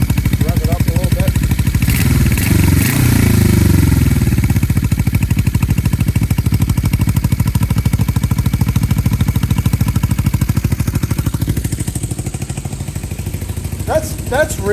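A 1980 Yamaha XS400 motorcycle engine runs close and loud with a fast, steady pulse, rising briefly when revved and then settling back to a rough idle, with a voice speaking over it at times.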